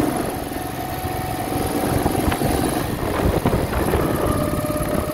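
A 1968 Moto Guzzi V7 700 motorcycle with newly sleeved cylinders rumbles steadily while being ridden, its loud engine thrumming under a constant rush of wind.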